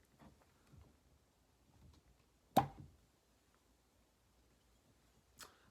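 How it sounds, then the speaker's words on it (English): A whisky bottle's cork pulls free with a single sharp, close pop in an otherwise quiet room, followed by a fainter knock near the end. "Little melodramatic on the cork pop there."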